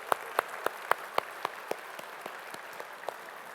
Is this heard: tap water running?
no